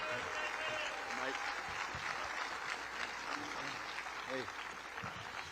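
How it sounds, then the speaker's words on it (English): Audience applause welcoming Professor David Clements at an election summit, a soft, steady patter of many hands with a few voices calling out over it. "Let's give him an applause."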